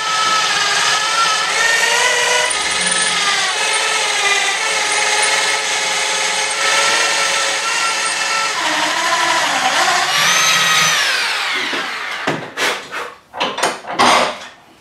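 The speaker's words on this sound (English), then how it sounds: "Had to go old school in the end and just literally drill it straight through all the way to the other side." A drill bores straight through a cast gear lever, grinding with a continuous high whine for about twelve seconds. It then stops and is followed by a few short scraping and handling knocks, close up with no talking.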